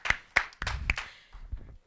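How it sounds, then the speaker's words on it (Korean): Children at a Sunday worship service clap their hands, a few sharp, close claps at an uneven pace followed by softer thuds and handling noise, with no voices. "하나님 아버지 앞에 영광의 박수 올려드리겠습니다."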